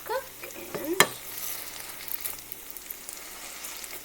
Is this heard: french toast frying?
yes